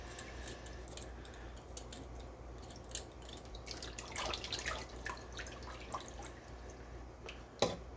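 Three heavy brass conch castings for Christmas being rinsed in water, heard as close, fairly quiet splashes, drips and metallic clinks and taps, with one sharper knock near the end.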